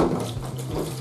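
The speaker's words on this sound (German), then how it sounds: "kurz kaltes Wasser drauf." Cold tap water runs from a faucet over freshly boiled eggs in a kitchen, a steady splashing gush heard close and alone.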